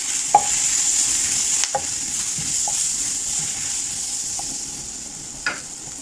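Chicken wings with onion, garlic, bay leaves and powdered seasoning fry in a pan under a steady sizzle, with a few scattered scrapes and clacks of stirring.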